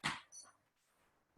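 A dog gives a couple of short, sharp barks outdoors on a sunny day during a walk, fairly faint and spaced apart with quiet gaps between.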